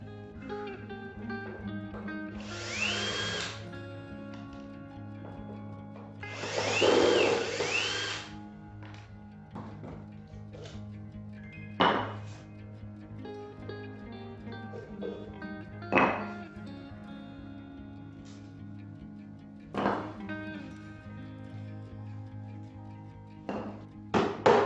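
Timber formwork comes off a concrete base that has set for a couple of days, heard as scattered knocks, taps and scraping thuds at irregular intervals, with two longer bursts of rustling noise and quiet talk in between.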